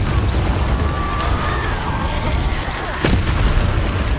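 A Bombarda spell blast in Hogwarts Legacy booms loud and sustained, with a sharp crack near the end over a continuous rumbling wash.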